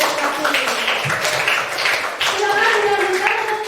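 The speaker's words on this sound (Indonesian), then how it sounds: "Oke, tepuk tangan untuk kelompok yang sudah maju berprestasi." A classroom group applauds a team that has just presented, a dense patter of many hands clapping close by for several seconds while a voice speaks over it.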